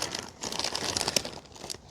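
The scissors of a Nextool Mini Sailor Pliers multitool cut through plastic bags, giving a close, quiet crinkling and rustling with short crisp snips and no talking.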